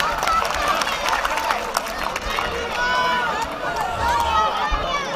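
Audience clapping to welcome a guest at a mushaira poetry gathering, a steady broad wash of crowd applause with murmuring voices and cheers mixed in, fairly loud throughout.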